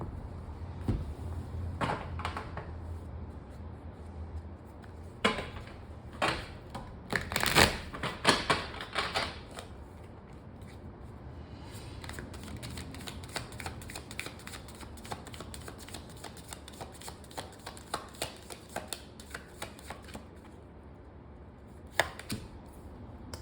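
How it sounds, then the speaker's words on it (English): A tarot card deck is cut and shuffled by hand, with crisp riffling bursts and rapid flicking card clicks, close, in a quiet room with a low background hum and no talk. "they want me to cut the deck"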